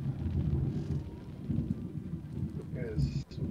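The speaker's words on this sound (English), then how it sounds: "there is a raging storm outside my house right now." A raging thunderstorm outside a house gives a low, continuous rumble of thunder and rain, fairly faint and distant, while people talk over it.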